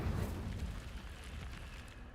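An Incendio fire spell cast in Hogwarts Legacy gives one rumbling, explosive whoosh of flame, strongest at the start and slowly tailing off across two seconds.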